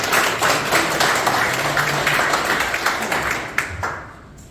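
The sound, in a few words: audience applause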